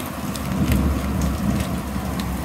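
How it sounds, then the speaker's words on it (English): Rain falls steadily on a surface during a thunderstorm, with a low rumble beneath and scattered drop hits, at a moderate level and with no talk. "there's a little bit of a thunderstorm going on as well."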